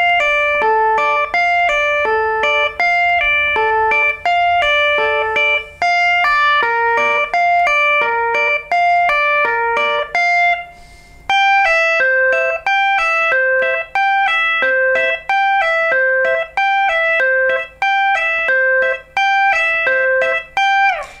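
Electric guitar picks a fast lick, a rapid, steady stream of clean, bright single notes that runs on alone for about twenty seconds with a short break midway.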